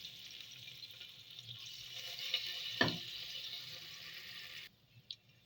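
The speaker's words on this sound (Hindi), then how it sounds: "कुकिंग ऑयल हमारा गर्म हो चुका है। ये देखिए गाइस, अब हम इसमें डालेंगे 1 टेबल स्पून लहसुन पेस्ट" Garlic paste dropped into hot cooking oil gives a steady hissing sizzle for several seconds with one sharp crackle in the middle, then cuts off abruptly, leaving near silence and a faint click.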